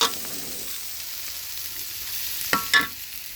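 Eggs frying in oil in a wok-style pan while being stirred, a steady soft sizzle with a few sharp scraping clinks of the utensil near the end.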